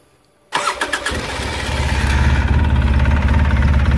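A Polaris Sportsman 800 H.O. ATV with dual exhaust cranks briefly, fires up after half a second of quiet, then settles into a loud, rumbling idle, close up with no talking.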